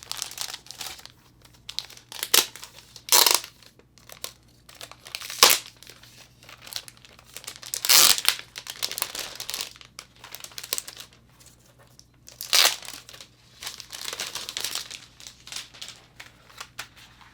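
Plastic packaging crinkles in bursts while a white Logitech G915 TKL keyboard with a brushed silver aluminum finish is unboxed. The crisp rustles come close and fairly loud at uneven intervals, with quieter handling between them and no talking.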